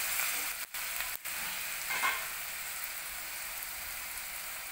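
Hadga flowers sauté in oil with spices, giving a soft continuous sizzle and hiss with a brief stir midway, fairly quiet and without voices.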